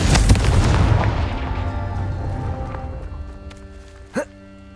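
A Confringo spell explosion in Hogwarts Legacy opens with a heavy booming burst that rumbles and slowly dies away, then a brief rising magical chime near the end.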